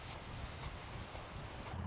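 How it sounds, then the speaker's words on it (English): Steady wind buffeting the microphone with a constant rushing roar, no voices, continuous throughout, outdoors during electric dirt bike testing. "It's a little bit windy out here."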